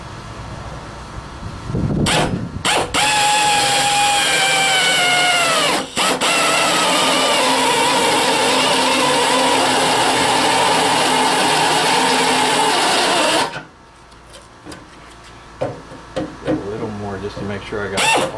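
Spot weld cutter drilling through one layer of sheet metal, a loud continuous whine with shifting pitch lasting about eleven seconds, then stopping abruptly; a voice talks briefly before and after.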